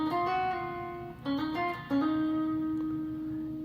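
Electric guitar plays a riff, with legato hammer-ons and pull-offs between fretted notes over ringing strings, fairly quiet and clean, a few quick note changes before a long sustained note, no talking.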